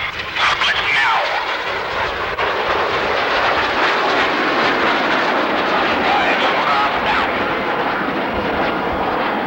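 Canadian Snowbirds jet aircraft flying airshow maneuvers at a 1990 air force base show, a loud continuous broadband roar of jet engines sweeping overhead with announcer talk running beneath it.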